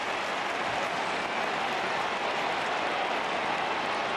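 A crowd at an AFL match between Adelaide and Geelong in 2007 roars steadily in the closing minutes, a broad, continuous wash of cheering and noise that stays loud and even throughout, with no clear voices standing out.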